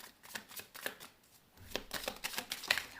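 A deck of tarot cards being shuffled by hand at close range, giving a run of soft papery riffles and slaps in an uneven rhythm, with no voices.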